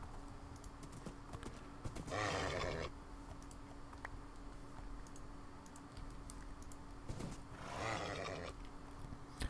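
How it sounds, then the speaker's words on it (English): Horses in the Minecraft video game give two breathy whinnies, several seconds apart, over a background of rapid keyboard typing and clicking. "I'm just gonna try and go around and tame each horse individually."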